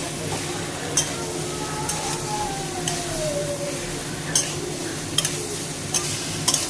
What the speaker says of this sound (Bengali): সুন্দর করে এটা কষা, খুব একটু ভাজা ভাজা হবে, তখন আলু।